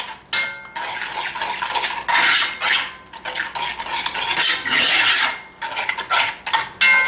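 Stew ingredients are stirred in a cast iron Dutch oven, with a spoon scraping and clinking against the pot in irregular strokes and short pauses, close and fairly loud.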